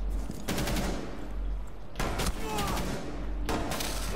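Gunfire in a first-person shooter video game, with several bursts of sharp shots over a steady game background rumble, loud and close.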